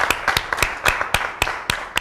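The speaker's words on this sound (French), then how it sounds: "Je voudrais que vous applaudissiez très fort pour Dodji." Audience applause at a French-language talk show, heard as steady, close rhythmic clapping with evenly spaced sharp claps and no voices.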